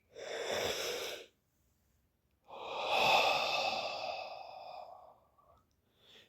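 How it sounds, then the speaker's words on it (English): A person draws a long, deep breath in through the nose and mouth as a relaxation exercise, close and airy, after an earlier shorter breath, then a brief soft exhale, and no talking. "And then take a deep breath,"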